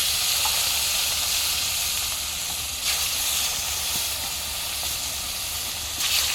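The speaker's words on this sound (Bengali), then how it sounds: "একে একে মাছগুলো দিয়ে দেবো।" Fish coated with salt and turmeric frying in hot oil gives a loud, steady, continuous hiss that holds for the whole stretch with only slight swells.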